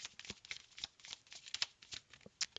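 Slippery tarot cards are shuffled by hand up close, a quiet run of crisp, irregular riffling flicks and soft slaps over about three seconds.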